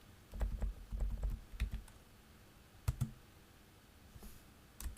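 Computer keyboard clacks as a chart title is typed in a dashboard app, quick clusters of keystrokes followed by a few isolated taps and pauses, close and quiet.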